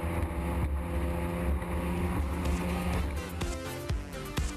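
Powerboats in a P1 Superstock UK race at Plymouth roar past loudly and steadily, their engine drone filling the scene with wind buffeting and no voices.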